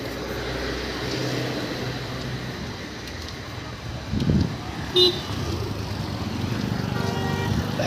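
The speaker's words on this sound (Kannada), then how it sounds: "ಹಾರನ್ ನಿಲ್ತಾನೆ ಇಲ್ಲ ಗುರು, ಹೆವಿ ನಡೀತಾನೆ ಇದೆ ಹಾರನ್ನು" Short vehicle horn toots sound amid steady traffic rumble, with a brief blast about midway and fainter honks near the end.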